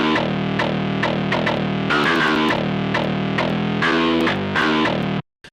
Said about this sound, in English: So our second guitar by itself sounds like this.